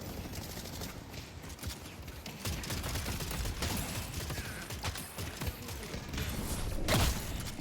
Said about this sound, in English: That's not him, that's a turret.